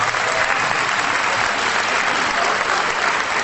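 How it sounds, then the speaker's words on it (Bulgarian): Loud, dense applause fills a hall at a boxing show, a continuous wash of many hands clapping at once with no break and no talk over it. "Сега искам да го поздравим с аплодисменти."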